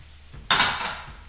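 A pot or pan of tomato pasta sauce gets a single sharp metallic clank of a utensil, then a brief scraping stir that fades out, near and alone.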